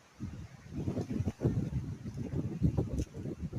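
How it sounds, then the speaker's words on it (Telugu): Strong gusty wind roars and buffets the microphone in uneven bursts, a loud low rumble rising and falling throughout. "ఈదురుగాలు గట్టిగా వీస్తున్నాయి."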